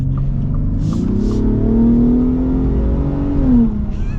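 A Shelby Raptor pickup truck accelerates hard from inside the cabin, its engine note rising steadily through a long pull, then dropping briefly at a shift, loud and continuous with no talking.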